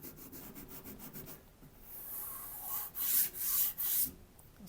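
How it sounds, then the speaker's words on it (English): A pad gently scrubs the painted surface of a car to blend the edge of a sprayed racing stripe. Soft, close rubbing strokes start quick and rhythmic, then turn into longer, louder swipes. "So I'm just going to gently scrub the area."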